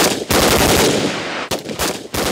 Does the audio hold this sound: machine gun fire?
yes